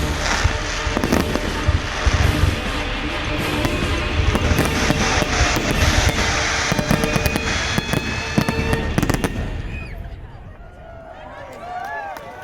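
A fireworks display bursting in rapid, crackling volleys, loud and dense for about nine seconds before thinning out, with whistling trails rising afterward and voices mixed in.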